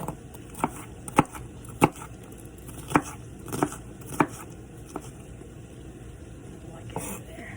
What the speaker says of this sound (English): Get this all together again and let's chop it up.